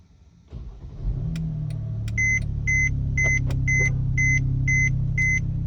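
A Mercedes-Benz C300 starts remotely through an IDataStart system: a short crank and the engine catching into a steady idle rumble, followed by a repeating series of regular electronic beeps over the running engine.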